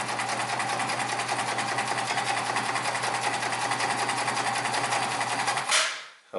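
A home sewing machine stitches through two layers of leather, a steady fast mechanical whir with a rhythmic needle chatter, loud and close, then winding down and stopping.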